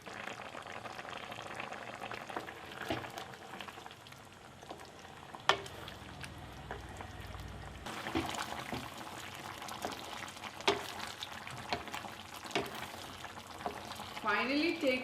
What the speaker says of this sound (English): Add your rice flour paste, stir, open cook it for 10 minutes, keep stirring gently in between.